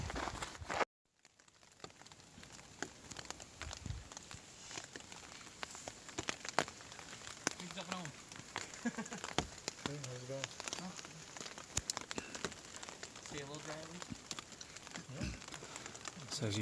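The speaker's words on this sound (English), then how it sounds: "So as you might have guessed, it's raining" Steady rain patters on a hiking camp in the desert along the Pacific Crest Trail, a dense close hiss of drops with scattered louder taps and brief rustling after a short silent gap at the start.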